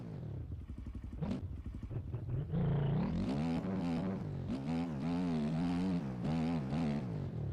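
Dirt bike engine in the MX Bikes motocross game revs loudly and steadily, its pitch rising and falling with throttle after a brief rough start.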